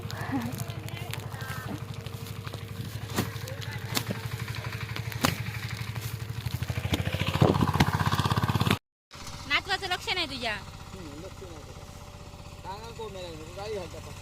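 A tractor engine chugs steadily with a rhythmic low thumping throughout, then cuts out; afterward a person talks over a quieter rumble.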